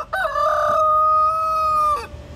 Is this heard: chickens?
yes